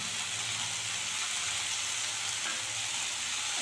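Garlic frying in oil for a spicy South Indian chutney, a steady crackling sizzle at close range that holds evenly throughout, with no one speaking.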